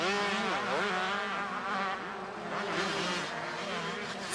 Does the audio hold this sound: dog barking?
no